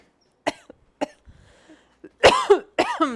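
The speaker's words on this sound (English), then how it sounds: "Sorry, I'm just coughing everywhere." Several sharp, close coughs in an irregular series: two single coughs, a pause, then a harsher cluster of hacking coughs.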